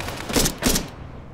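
Two quick, sharp gunshots in the video game ARMA 3, fired close together, with a short fading tail after the second shot.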